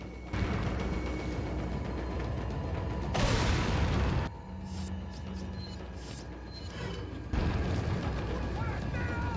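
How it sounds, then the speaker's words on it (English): A frag grenade goes off in the video game Resident Evil 4 with a loud, broad blast burst that swells and then cuts off abruptly. Muffled game noise and action sounds surround it. "Oh, that frag grenade did do a good job, actually."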